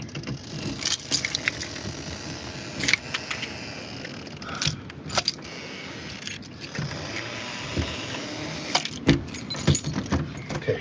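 Keys jangle in several brief metallic bursts while a car door is locked, set against steady background noise with a few sharper clinks and scrapes.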